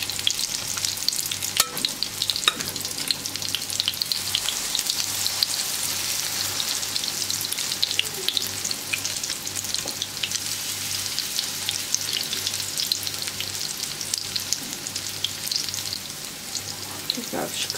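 Zucchini fritters (mücver) fry in oil in a pan, giving a steady, close, dense sizzle and crackle with scattered pops that carries through unbroken, with no talking.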